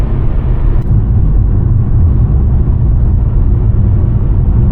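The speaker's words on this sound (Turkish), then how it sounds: "Tırtıklı yol sesi de şöyle çekmiş" A Fiat Egea Cross at highway speed rolling over a grooved rumble-strip road, producing a loud continuous low drone and rumble inside the cabin that holds steady throughout.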